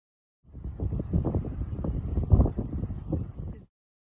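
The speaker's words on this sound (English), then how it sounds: "today is a windy day" Gusty wind buffets the microphone on a hike up a petrified sand dune on the south coast of Kauai, a steady low roar lasting about three seconds with no talking.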